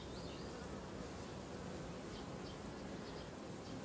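Honeybees hum at an open hive during a queen introduction, a faint, continuous buzzing with no pause, heard alone and without speech.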